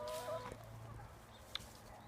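Chickens on a training ground cluck quietly in a few short, soft bursts against a low background hum.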